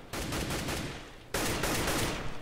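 Two loud, sustained bursts of rapid gunfire from Counter-Strike: GO on de_mirage during an ESEA esports match, the second burst starting abruptly after a short dip, with no talking.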